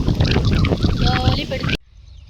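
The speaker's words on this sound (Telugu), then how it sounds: "గాలి పెడుతుంది" Wind gusts across an open farm field with a loud, rough buffeting roar that cuts off abruptly near the end, with a voice briefly audible under it.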